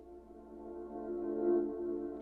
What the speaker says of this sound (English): Reverse piano sounds like this.